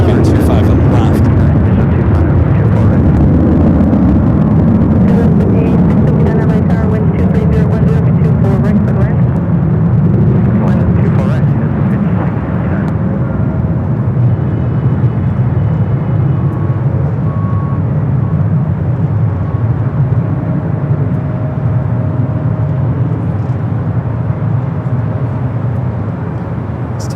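A Boeing 787-9 Dreamliner arrives on runway 25 left at Los Angeles airport, a loud broad engine roar and rumble that gradually eases, with a voice talking over it.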